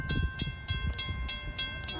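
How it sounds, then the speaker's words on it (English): Amtrak P371 passenger train arriving at Holland Station, a steady rumble with rhythmic rail clatter and periodic bursts of wheel and brake hiss, close and continuous without talk. "here comes Amtrak P371 arriving to Holland Station"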